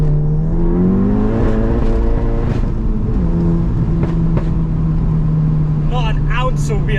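A Stage 3 VW GTI with traction control off pulls hard in first gear, its engine note rising steadily and loud inside the cabin, with a voice talking over the drone.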